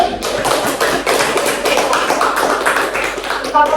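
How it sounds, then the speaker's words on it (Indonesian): A room full of children clapping steadily for several seconds, dense and lively applause that holds at an even level throughout. "Tepuk tangan dulu."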